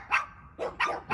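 An eight-week-old puppy gives four short, high yipping barks in quick succession, close and clear, with brief silences between them and no one talking.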